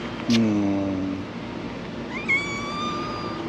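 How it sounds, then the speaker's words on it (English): A stray cat in a residential compound in Jeddah, Saudi Arabia lets out two distinct meows, a loud drawn-out one near the start and a higher, thinner one about two seconds later, over a steady background hum. "stray cats are fucking everywhere"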